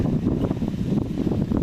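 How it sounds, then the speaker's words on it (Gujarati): Strong wind blows across an open farm plot with a young cassava crop and a row of mango trees under cloudy skies, a steady, loud rumbling buffet against the microphone with no voices. "પવન તો બહુ જ છે"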